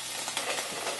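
Chopped vegetables hit a hot pan and sizzle steadily, a bright, even hiss of frying with light stirring scrapes, moderately quiet and with no talking over it.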